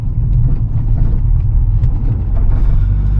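A modded Nissan 350Z engine rumbles steadily from inside the car while driving at night in London, a deep continuous drone with faint mechanical rattles over it, loud and close.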